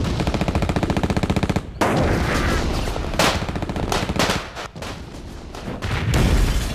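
Heavy gunfire and artillery from a Battle of the Bulge war film: a rapid sustained machine-gun burst, then dense overlapping shots and booms, loud and continuous with no pause.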